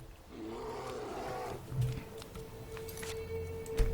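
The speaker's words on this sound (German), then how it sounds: "Da ist ein Bär." Bear in Skyrim roaring at night in a forest, a low growling roar at moderate distance, followed by a brief rumble and faint background noise, with no talking.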